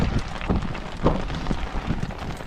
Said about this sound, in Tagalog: naglakas yung ulan.